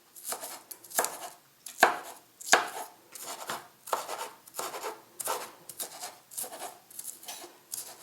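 Chopping egg mix for a pizza omelet finer, a knife striking a cutting board in an irregular series of crisp, close chops with brief pauses between strokes, no voices.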